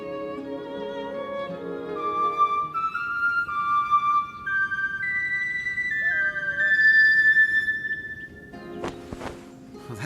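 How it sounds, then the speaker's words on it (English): Melodic bone whistle tune from the video game Masquerada: Songs and Shadows, a series of clear sustained and gliding notes moving upward over soft ambient background, ending with a few sharp percussive hits. "It's a bone whistle."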